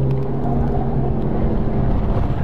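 A car engine drones steadily and loud through a drift, held in a slide with counter steer under maintained throttle, a continuous low rumble with no break.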